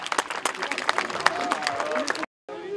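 Spectators at an outdoor pirate show in the Audomarois marshes break into scattered clapping after a gunshot, with voices talking over the applause before it cuts off abruptly into a brief silence.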